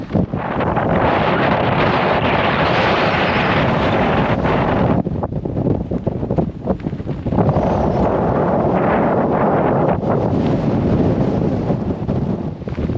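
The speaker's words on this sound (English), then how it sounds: "something tells me I don't think that wind has disappeared" Strong wind on an exposed hilltop in the Shropshire Hills near Caer Caradoc buffets the microphone in a loud, continuous roar that dips briefly and gusts back up, with no voices.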